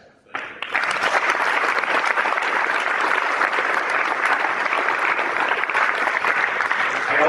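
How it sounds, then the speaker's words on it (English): An audience breaks into applause for the ITLA staff, rising quickly from near silence into sustained, dense clapping that holds steady to the end. "I give a round of applause to Jimmy and the staff."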